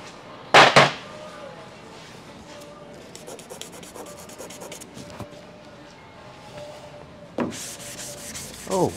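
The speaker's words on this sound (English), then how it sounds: "It's sanding so smooth." Sandpaper rasps over filled bodywork on a van: long, steady scraping strokes at moderate level, with sharp, louder bursts of sanding near the start and again toward the end.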